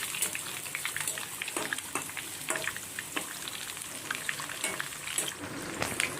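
Food frying in a pan during Ramadan meal cooking crackles and spits steadily up close, with scattered stirring clatter and no talk.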